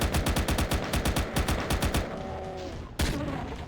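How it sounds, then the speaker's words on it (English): Gunfire in the Doom-style game UAC - Down to Earth: a rapid, evenly spaced burst of loud shots, a short lull, then a single sharp shotgun blast near the end. "Shotgun."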